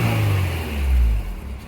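A Honda S2000 sports car engine revs with a low, subdued rumble that swells and eases over a short stretch, fairly quiet for a sports car, with no one talking.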